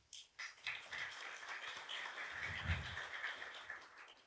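A roomful of conference attendees applauding at a WordPress talk, faint and somewhat distant, with a steady wash of many hands clapping that swells briefly midway, then fades out.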